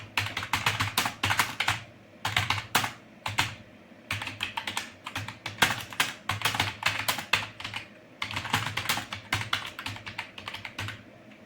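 Computer keyboard typing during a KVS JSA typing test: close, continuous clatter of keystrokes in fast bursts separated by brief pauses, with no talking.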